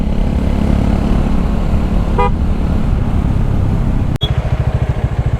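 In a traffic jam on the road to Srisailam, about 129 km from Hyderabad, a steady engine rumble runs throughout, with a short horn toot midway and a sharp click before a pulsing motor sound.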